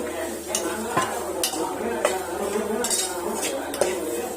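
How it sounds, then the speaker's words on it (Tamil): A spoon stirs and scrapes a masala mixture sautéing in a pan with a splash of water for masala bread, with repeated metallic clinks and a soft sizzle, close and steady. "ஊத்திட்டு வதக்கிக்கலாம்."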